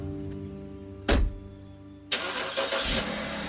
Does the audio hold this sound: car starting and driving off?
yes